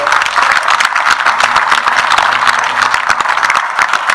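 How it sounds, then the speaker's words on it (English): Loud crowd applause for police motorcycle escorts at a Rolling Thunder memorial ride event, dense and continuous clapping throughout with a faint low rumble underneath. "Please give them a big round of applause"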